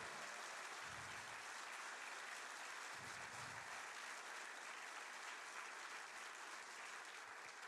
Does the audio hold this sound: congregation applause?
yes